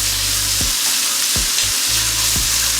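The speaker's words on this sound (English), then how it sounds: "I'm gonna cook up the bacon." Bacon sizzles in a pan with a loud, steady, close hiss, broken by a few brief scraping stirs and no talk.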